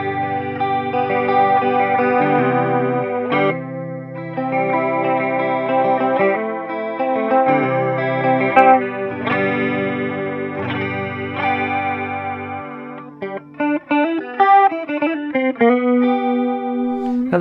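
A song played on electric guitar through an MXR Analog Chorus pedal, a steady stream of shimmering, swirling picked notes and chords, close and fairly loud, continuing without pause.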